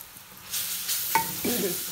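Grated carrots for gajar ka halwa are stirred with ghee and sugar in a pan, a soft sizzle with a couple of close scraping strokes of the spoon.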